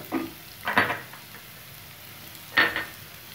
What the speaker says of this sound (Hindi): बस अब हमें इसे थोड़ा अच्छे से भून लेना है क्योंकि सब्जियां ये सारी कच्ची हैं